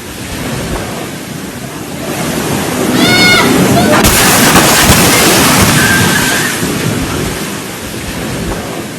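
A large, dangerous wave crashes onto a beach where people stand taking selfies, a loud sustained roar and wash of surf filling the whole stretch, with a few faint bird-like squeaks and a brief shout over the noise.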